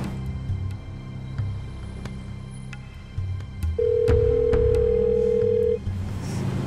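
A phone call rings out unanswered, giving one long ringback tone of about two seconds over low room noise and faint clatter, with no voices.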